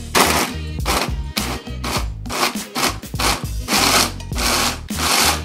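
Fresh Parmesan being chopped fine with a sharp knife on a board, heard as rapid rhythmic chopping in quick bursts with short pauses. The knocks are loud and close, with no talking.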